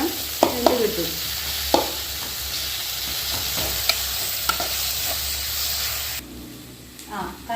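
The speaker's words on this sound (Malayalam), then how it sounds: "ഇളക്കി കൊടുക്കാം. ഇതിങ്ങനെ കുത്തി കൊടുത്താൽ വേഗം വെന്ത് കിട്ടും." Chicken curry frying in a pan hisses steadily while a spoon stirs and prods it, giving intermittent scrapes and taps. The sizzle is loud and close and drops off near the end.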